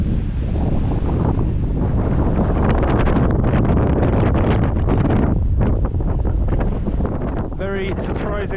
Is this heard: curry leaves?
no